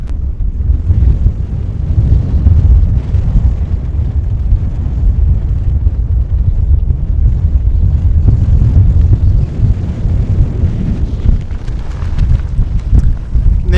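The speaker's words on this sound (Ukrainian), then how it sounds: "неймовірний вітер, не знаю чути, не чути, але занадто сильний вітер" Strong wind on a mountain in the Ukrainian Carpathians roars and buffets the microphone continuously, a heavy low rumble with gusty surges and no pause.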